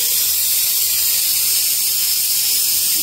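Mustard seeds crackle and hiss in hot cooking oil in a home kitchen, a steady, dense sizzle that holds evenly throughout with no talking.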